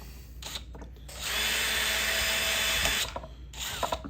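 A new power drill whirs steadily for about two seconds at close range while making homemade model paving slabs, bracketed by short clicks and handling noises before and after.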